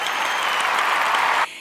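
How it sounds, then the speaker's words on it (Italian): Steady audience applause at a beauty-product chat, dense and even, holding at full strength for over a second before cutting off abruptly. "anche qui scatta di nuovo l'applauso"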